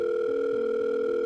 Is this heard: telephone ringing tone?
yes